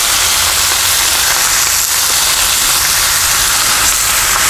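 Chip steak sizzles steadily on a Blackstone griddle, a dense, continuous hiss that stays loud and even throughout with no voices.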